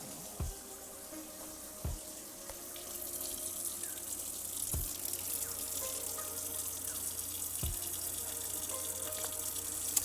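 Running tap water for the final rinse in film developing, a soft steady stream filling a sink, with a few clear drips or knocks near the start, faint and close.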